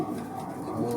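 Racing pigeons cooing softly nearby in a loft, a low steady murmur of several birds.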